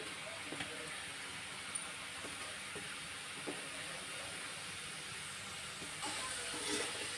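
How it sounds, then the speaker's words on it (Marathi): French fries frying in hot oil, giving a steady, soft sizzling hiss throughout, with a few faint clicks and a slightly louder bubbling near the end, and no talking. "अशा पद्धतीने तेलामध्ये टाकून घेते मी जेवढे बसतील तेवढे"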